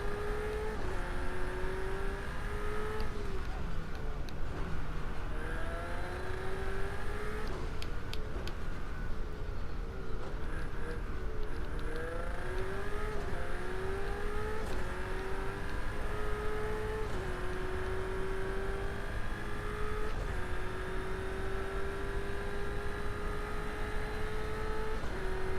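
Race car engine in a racing video game hums continuously, its pitch rising and falling repeatedly with acceleration, braking and gear shifts, a steady synthetic whine at moderate level with no talking.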